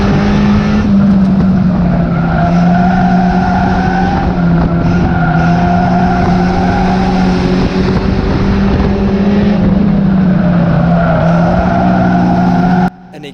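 A small Ford Fiesta race car is driven hard around Cowdenbeath Racewall, its engine holding a loud, strained drone close by that rises and dips through gear and throttle changes, with tyre noise underneath, before cutting off abruptly near the end.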